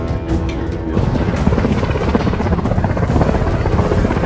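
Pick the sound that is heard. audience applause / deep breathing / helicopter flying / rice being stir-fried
helicopter flying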